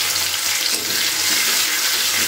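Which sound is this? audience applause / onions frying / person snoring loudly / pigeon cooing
onions frying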